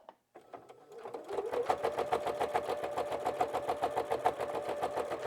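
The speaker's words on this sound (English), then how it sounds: "I'm going to start with a back stitch and just stitch all the way across the top of this onto my quilt" A sewing machine back-stitching across the top of a quilted wall hanging starts slowly, then settles into a fast, even mechanical chatter of needle strokes, close and fairly quiet, with no talk.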